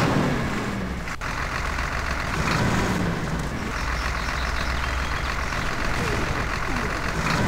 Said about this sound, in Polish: Brzmi jak silnik od ciężarówki stary